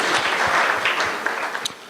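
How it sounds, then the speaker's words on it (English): An audience claps at a cannabis industry gathering in New York, a brief burst of dense, steady applause that holds at an even level throughout. "Round of applause for all of you."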